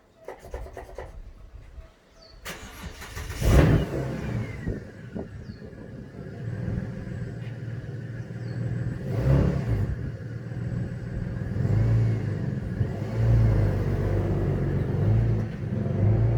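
A roadworthy but rough-looking Holden Commodore, used as a country support vehicle, rumbles with its engine running steadily while cars are moved, the low drone swelling and fading, with a brief scraping burst early on and no talk.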